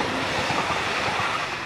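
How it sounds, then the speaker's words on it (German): A train passes close by along a bike route between Meran and Auer in South Tyrol, its loud, steady rumble and rolling wheel clatter filling the whole moment without a break. "jetzt kommt der Zug."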